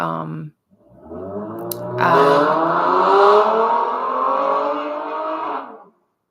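Cars pass loudly along a busy street outside, one vehicle sweeping by close with a rising, sustained engine roar lasting several seconds before cutting off, after a brief moment of someone speaking.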